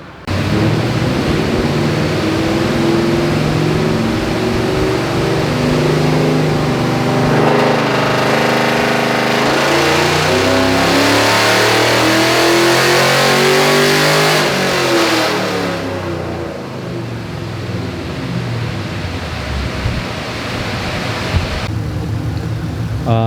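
Car engine on a dyno pull with ignition timing advanced, revving loudly under load with a rising, sweeping engine note over about fifteen seconds before easing off to a lower drone; no talk.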